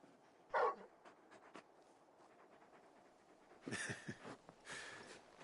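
Big dog Torgal in Final Fantasy XVI gives a couple of soft whimpers and faint panting sounds, quiet and close, separated by near-silent gaps.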